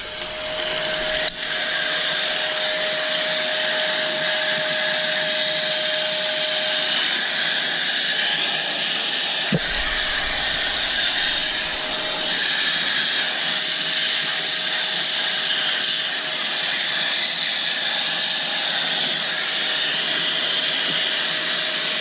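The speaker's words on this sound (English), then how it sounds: "I'm gonna go ahead and grab the vacuum" A vacuum cleaner roars steadily and close by for the whole stretch, a constant loud whooshing drone with a faint tonal hum.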